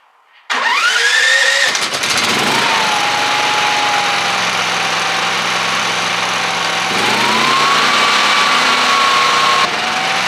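A petrol generator used to power a welder starts up: a quick pull and rising whine as the engine catches, then a loud steady high-pitched running drone that dips and recovers once before continuing.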